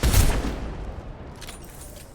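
A burst of gunfire in the video game Mass Effect 2, a loud volley at the start trailing into rumbling combat ambience, with another sharp hit right at the end.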